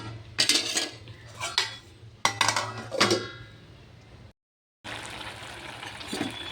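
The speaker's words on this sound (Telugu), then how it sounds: "మూత పెట్టుకుంటున్నాను." Metal clinks and clatters from a cooking pot being handled and its lid set on, several sharp close knocks in short bursts with quiet gaps between them and a brief silent break near the end.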